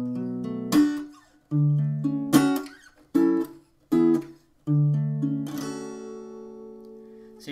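Close acoustic guitar playing the next verse section of a song, alternating plucked chords with crisp muted strum hits and ending on a ringing chord, no voices present.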